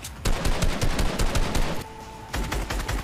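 Rapid gunfire in the Fortnite video game, with dense bursts of automatic shots in quick succession, a short pause with a tonal hum, then more firing, loud and continuous without talk.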